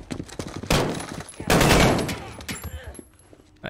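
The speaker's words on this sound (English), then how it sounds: "Point and shoot until they fall, like we said." Gunfire in Call of Duty: Modern Warfare comes in two loud, dense bursts of rapid shots with scattered single cracks between them, close and heavy.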